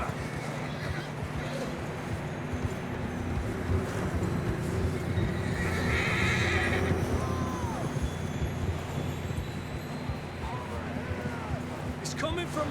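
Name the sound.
horses neighing, video game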